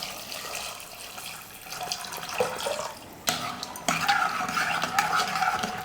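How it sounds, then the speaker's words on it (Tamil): Water pours into a pressure cooker already holding turmeric powder and salt for sundal, a steady splashing wash that swells and grows louder partway through, with a few sharp clinks of utensils against the pot. "இப்போ தண்ணி சேர்த்துக்கலாம்"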